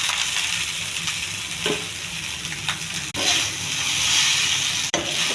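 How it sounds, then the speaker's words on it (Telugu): Hot tempering poured into tamarind rice mixed with chana dal, urad dal and mustard seeds gives a loud, continuous sizzle and hiss, with stirring scrapes and a couple of brief drops in the sound. "తాలింపు రెడీ అయింది. ఈ తాలింపులు వేసేయాలి."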